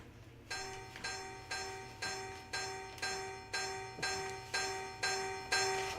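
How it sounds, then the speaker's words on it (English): A bell in Minecraft rings out in a steady series of about eight evenly spaced, resonant strikes, each one decaying before the next, loud and clear without talk. "there goes the bell."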